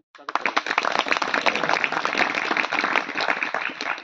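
Audience members clap at a school alumni association meeting, a sustained burst of many hands starting abruptly and holding loud and dense to the end, with some voices mixed in.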